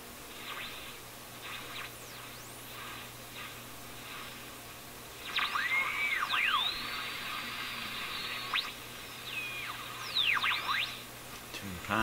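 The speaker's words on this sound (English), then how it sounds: "Sure why all those heterodyne tones are coming through." Heterodyne whistles from a Northern Electric 832A radio receiver: sweeping and swooping tones rise and fall over a steady hiss and hum, several overlapping, louder and busier in the second half as the dial is tuned.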